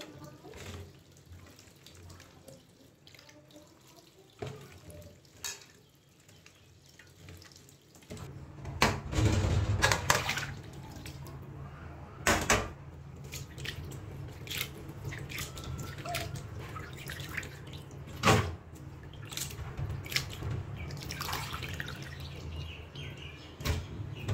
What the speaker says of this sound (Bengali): কষলিয়ে তারপর সুন্দর করে মাছগুলো ধুয়ে নিব